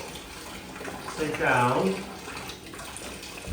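Warm water running into a bath for golden retriever puppies, a steady rushing pour that swells briefly midway, heard close with people talking over it.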